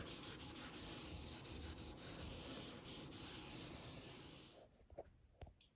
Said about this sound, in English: Just take a spare shirt, rub it.